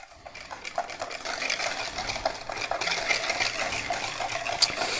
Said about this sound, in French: Voilà, on peut mélanger.